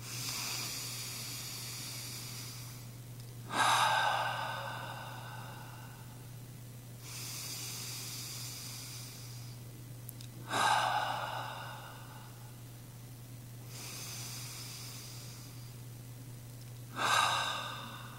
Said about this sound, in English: Let's just let that out for 3 breaths. In through the nose.